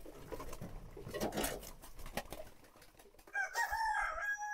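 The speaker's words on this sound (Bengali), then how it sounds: "যখন আমার হাতে কবুতরগুলো এসে খাবার খায়" Shirazi and Lakka pigeons on a pigeon farm, feeding from a hand, with close, scattered bird calls and rustling that grow into louder, clearer cooing and chirping toward the end.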